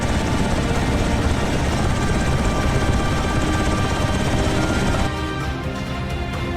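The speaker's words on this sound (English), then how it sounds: "Helicopter approaching from town." Helicopter in the DCS flight combat game, a loud continuous rotor and engine roar filling the whole stretch, easing slightly near the end, no talk over it.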